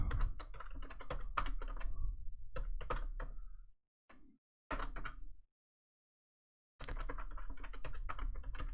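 Someone types a login password on a computer keyboard, producing quick bursts of close, crisp key clicks separated by short pauses, then a final flurry of rapid keystrokes.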